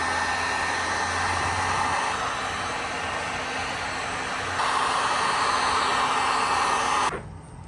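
Heat gun blowing a steady, loud airy roar while heating the bottom seam of a 2006-10 Dodge Charger OEM headlight housing, rising slightly partway through before cutting off near the end, close and without talk.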